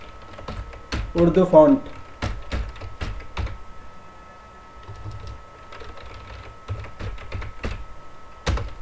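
Close, steady keystrokes clatter on a computer keyboard in quick irregular bursts and single taps, with a voice talking briefly over part of the typing.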